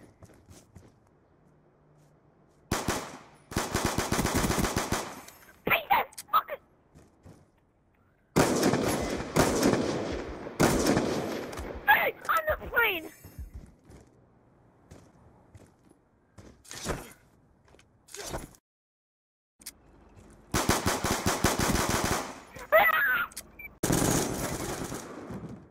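Bursts of rapid gunfire while shooting at a boss in a video game, several long loud volleys separated by quiet stretches and a few short single shots.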